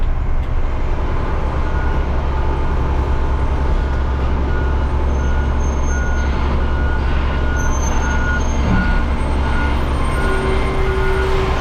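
Brand new front-loader garbage truck engine revving steadily and loudly at close range while ejecting its load, a continuous heavy diesel roar with no talk over it.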